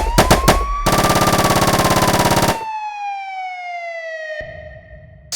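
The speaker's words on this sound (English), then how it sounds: "proceed to exchange gunfire with the perpetrator" Rapid automatic gunfire in a staged police shootout, a few single shots and then a long dense burst, with a wailing siren sweeping underneath and carrying on after the firing stops.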